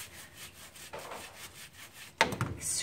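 A Bichon dog's wet coat and toes are scrubbed by hand during a bath, producing soft repeated rubbing strokes followed by a sharper splash-like burst near the end.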